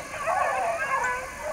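Hunting dogs baying on a trail, a chorus of overlapping high yips and bawls from several hounds at a middle distance, steady and continuous.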